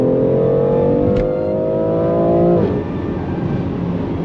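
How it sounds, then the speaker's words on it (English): A BMW X3M Competition SUV engine pulls hard under acceleration, its rising drone loud and close before the revs drop sharply near the end. Distinct exhaust pops are hard to pick out. "I love driving an SUV that actually has burbles, you know, the pops and crackles out of the exhaust"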